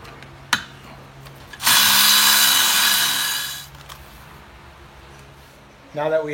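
Power tool driving out the bolts of a removed torque tube, a loud burst of about two seconds standing alone after a sharp knock, with a brief voice at the end.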